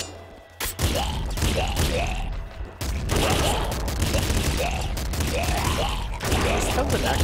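Rapid bursts of turret gunfire from the video game Nuclear Throne, repeated volleys of loud, dense shots with booming impacts, layered over game music and effects throughout.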